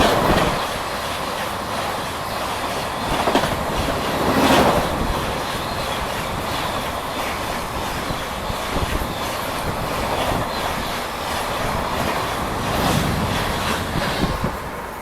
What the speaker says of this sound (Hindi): भागलपुर आनंद विहार गरीब रथ एक्सप्रेस